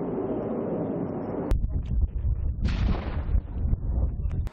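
Fırtına howitzers and multiple rocket launchers fire in a military operation, heavy booming blasts with a sharp crack and rolling rumble, then a rushing roar of a launch trailing off.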